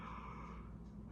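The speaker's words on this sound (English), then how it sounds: "Did not mean to yawn, I'm sorry" A tired person's yawn late at night, a sustained breathy exhale lasting over a second, close and fairly quiet, with no speech over it.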